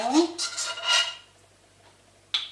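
Small apple pieces dropped into a little dessert bowl, a few quick clinks and knocks in the first second, then near silence before one more sharp tap at the end.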